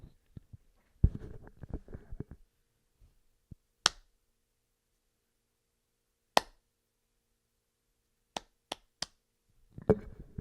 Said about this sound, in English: We have to clap first.